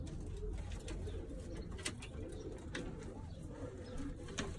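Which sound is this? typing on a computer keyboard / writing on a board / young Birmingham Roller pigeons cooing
young Birmingham Roller pigeons cooing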